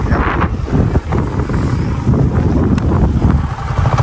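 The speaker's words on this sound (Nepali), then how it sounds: "हावा चलिरहेको छ" Strong, cold wind at Simanjyang, Nepal buffets the microphone continuously, a loud low rumbling roar with gusty fluctuations throughout.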